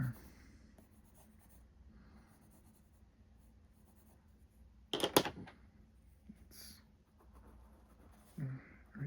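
Colored pencil, a Master's Touch brand, scratching across textured drawing paper to fill in a bald eagle's yellow beak, a quiet steady rasp with a few louder strokes and taps, close and alone.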